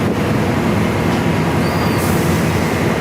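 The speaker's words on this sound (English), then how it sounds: "Also coming in right now, my train to Sea Caucus is literally 4640, the Retro Paint Heritage unit." An NJ Transit train hauled by heritage-painted locomotive 4640 pulls into a station, giving a loud, steady rumble of wheels and engine close by, with no talking.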